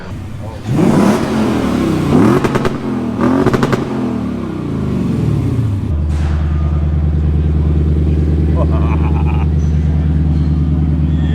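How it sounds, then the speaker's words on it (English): A Lexus sports car's exhaust revs hard in repeated rising bursts, then settles into a deep, loud, rumbling idle with a steady exhaust drone. "I have a clip from the exhaust from last night"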